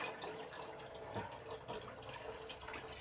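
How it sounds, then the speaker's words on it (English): Milk poured into a pot for loaded potato soup, a continuous splashing liquid stream with bubbly gurgles, fairly close and steady throughout. "we're going to go ahead and get that poured in there"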